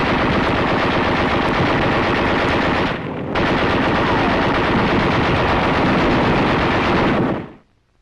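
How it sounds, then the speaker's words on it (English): A captured Japanese Nambu light machine gun and a caliber .30 heavy machine gun fire in sustained loud bursts in the field, with one brief pause midway before the fire stops abruptly. "fires alongside our caliber 30 heavy machine gun"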